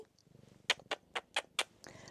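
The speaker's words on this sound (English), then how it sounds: "Little purring away." A female house cat purrs up close in soft, rhythmic breathy pulses, about five evenly spaced in a row, in a quiet indoor room.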